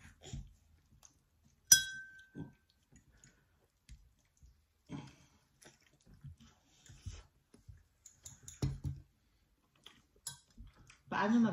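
Glass objects clink together: one sharp, ringing clink stands out early, followed by scattered softer taps and clicks, with voices talking quietly at intervals.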